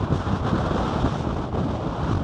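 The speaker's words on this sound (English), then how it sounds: "Wouldn't be so bad if it was calm and not so windy" Strong wind buffets the microphone on an exposed clifftop at Filey, a steady roaring rush with low gusty rumble and faint surf beneath, no voices.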